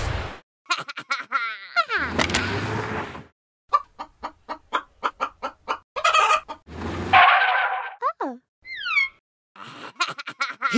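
A chicken in a stop-motion breakfast comedy clucks in a quick series of sharp, close calls, mixed with longer squawks and a crow-like cry, punctuated by brief silences and whistling cartoon effects.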